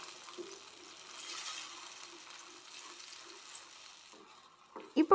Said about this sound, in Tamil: கலந்து விட்டுட்டே இருங்க